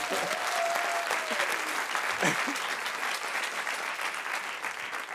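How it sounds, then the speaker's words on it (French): A TV talk show audience gives comedian Mehdi Custos a warm, continuous round of applause, steady dense clapping with a brief cheer and a faint voice underneath. "Applaudissements pour Mehdi Custos."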